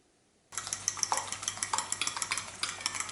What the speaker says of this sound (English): And then whisk it.